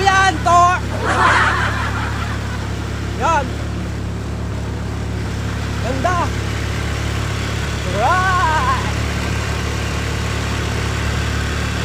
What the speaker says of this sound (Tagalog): parang umaangal yata yung motor ko